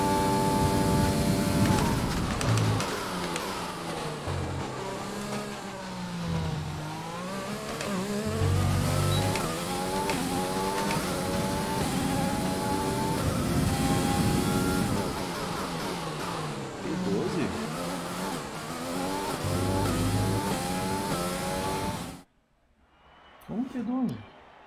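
Race car engine in F1 2020, Belgian Grand Prix career mode, revs steadily with repeated rising and falling pitch sweeps under continuous talk, then cuts off abruptly near the end.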